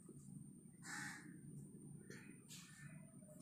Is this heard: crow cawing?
yes